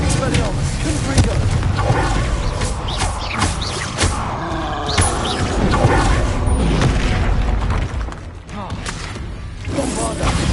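Bombarda blast spell in Hogwarts Legacy, heard as repeated booms and thuds with whooshing spell effects in a dense, continuous stream of game combat sound.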